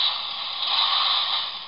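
A Transformers Onslaught toy armored vehicle rolls on six wheels, one of them partly stuck, giving a steady close hiss-like grinding whir that holds evenly for under two seconds with no voices.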